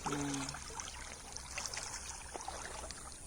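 Water flowing steadily in a stream where bamboo shoots are gathered, a continuous close trickling wash that keeps an even level throughout.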